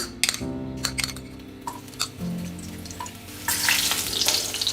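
Chicken and chopped garlic frying in oil in a kadai over a medium flame, with crackling sizzle, a few sharp clinks of a utensil against the pan and stirring, growing louder and busier toward the end.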